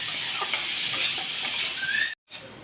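Potato pieces and pointed gourd peel fry in hot oil, giving a steady close sizzling hiss that cuts out abruptly for a moment and then resumes.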